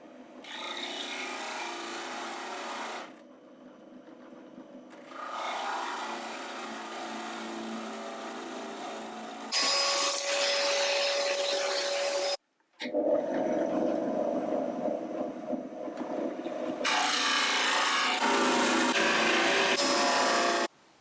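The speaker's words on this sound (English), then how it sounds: "Therefore, I use the drill press, even though you can't use this in the middle of the table." A drill press bores a series of holes into a wooden workbench tabletop, with long whirring, grinding bursts separated by brief pauses, loud and close throughout.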